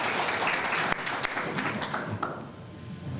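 Audience applause at a talk on an Alberta tax campaign, a short burst of crowd clapping that thins out over about three seconds.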